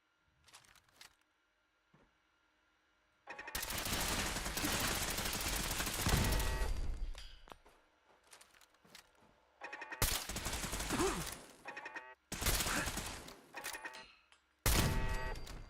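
Turrets fire at the player in Fallout 4, loud sustained gunfire bursts separated by short gaps, with game sounds between them and no talk over the shooting.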